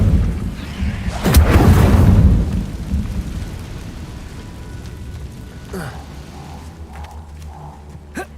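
An Incendio fire spell cast in Hogwarts Legacy, a sudden booming fiery blast that roars for about a second and trails off into a low rumble, followed by scattered small chimes and crackles.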